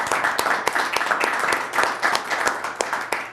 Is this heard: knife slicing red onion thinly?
no